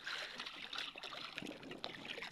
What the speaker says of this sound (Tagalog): Sabuyan ko ng tubig at ang itim.